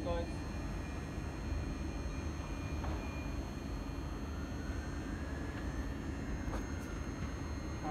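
A Class 700 Thameslink electric train departs Brighton on a service to Bedford, a steady low rumble with a faint whine rising in pitch as it pulls away, while a voice talks nearby.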